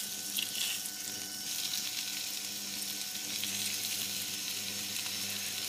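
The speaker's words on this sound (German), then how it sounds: "erhitzt ihr etwas Öl in einer Pfanne und bratet da dann euer Schwein an" Steady sizzling of pork frying in hot oil in a pan, a continuous crackling hiss throughout with no talking.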